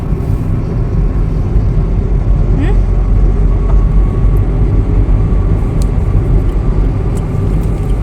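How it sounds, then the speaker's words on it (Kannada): A vehicle moves off ahead in a steady broadband engine rumble, fairly loud and continuous, with faint voices and scattered sounds over it. "ಮುಂದೆ ಗಾಡಿ ಹೋಗೋದನ್ನ ನೋಡ್ತಾ ಇದೀಯಾ?"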